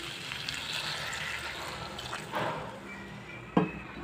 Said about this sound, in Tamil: இப்போ இந்த சிக்கன் வேகிறதுக்கு தேவையான தண்ணி ஊற்றிக்கலாம் நம்ம.